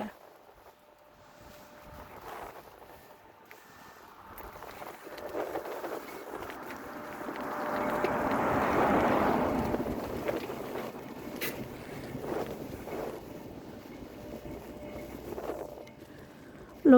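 Strong outdoor wind in the early evening after work, a low buffeting rumble against the microphone that builds to a broad gust around the middle and then eases back, heard with no talking.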